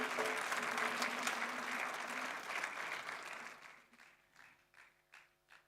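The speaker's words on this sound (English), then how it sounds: "I think indeed Comrade deserves a round of applause once again" An audience at a live event bursts into dense, steady applause, which then thins into scattered individual claps as it fades out.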